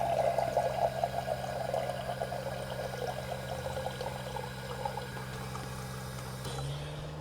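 Purified water from a Simpure Y9 purifier pours out in a soft, steady stream that fades slightly near the end, over a low constant hum, with no speech.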